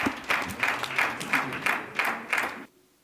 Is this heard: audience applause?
yes